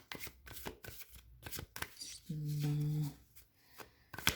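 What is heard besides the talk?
shuffling and pulling tarot cards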